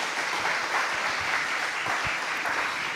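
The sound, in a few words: church congregation applause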